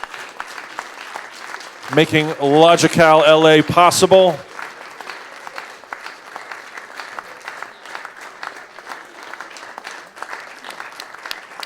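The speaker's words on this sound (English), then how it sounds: "How about a round of applause for all these people" Conference audience at LogiCal-LA 2018 bursts into applause, a dense clapping wash under a voice over a PA that carries on after the clapping fades.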